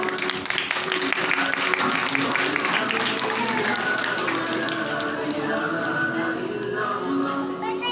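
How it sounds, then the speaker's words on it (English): Schoolchildren clap along during an action song, a brisk, close patter of many small hands that carries on for several seconds while voices talk and sing over it. "Please clap, clap."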